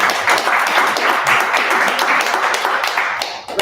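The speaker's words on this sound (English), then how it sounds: "We should give a big applause to Neptune Software as well." Audience applause at a tech conference, a dense patter of many hands clapping in a hall, loud and steady for a few seconds before tapering off.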